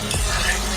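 Ridge gourd chutney mixture being stirred in a pan, a brief, close scrape over a soft sizzle.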